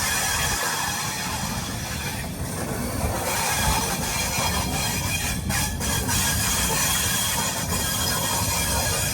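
Rameshwaram–Bhubaneshwar weekly Superfast Express running in India, heard from inside as a steady loud rumble with rhythmic wheel clatter and occasional metallic squeals and hiss.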